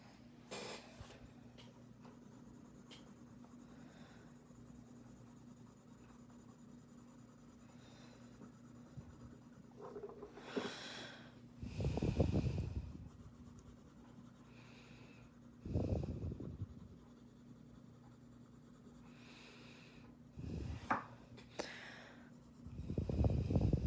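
Close pencil strokes on paper while shading and blending an octopus drawing, quiet scratchy rubbing at first, then several louder bursts of scraping strokes. No one talks.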